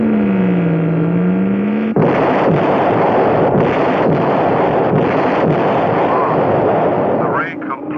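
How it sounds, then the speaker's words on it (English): A cartoon ray gun blast striking an asteroid in a sci-fi space scene, a rising tonal whine that abruptly gives way to a loud, sustained crackling roar of broad noise with sharp bursts, fading near the end. "The ray completely powdered that asteroid."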